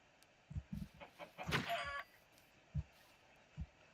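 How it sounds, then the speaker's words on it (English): Chickens clucking in the Minecraft video game, a few short separate clucks with a brief louder flurry of squawking in the middle, fairly close with no talk over them. "I don't know why I'm killing the chickens."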